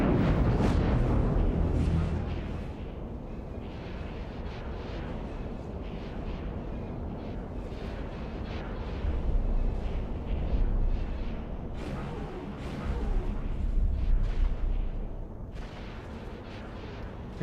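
Starship main guns fire in the space game X4 as a dense, rumbling barrage of booming shots and blasts, loud and sustained with swells of heavier explosions.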